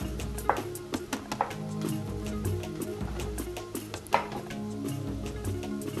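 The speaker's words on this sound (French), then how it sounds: "Voilà, nos champignons sont découpés." Mushrooms being chopped with a knife for Cameroonian egusi soup: a run of crisp, irregular strikes against a cutting board, fairly close, over a steady tonal background.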